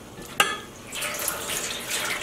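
Tap water runs into a sink during yarn dyeing, a steady hissing splash after a brief clatter near the start, fairly close and moderately quiet with no talking.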